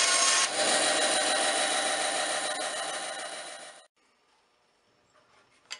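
A saw cuts through a wood strip, a dense rasping stroke that runs for a few seconds and stops abruptly, followed by near silence with a faint tap at the end.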